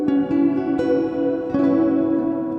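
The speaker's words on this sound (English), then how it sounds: "I like that mod reverb." A sustained guitar chord rings out with a shimmering, wavering reverb tail, repicked a few times with clear attacks.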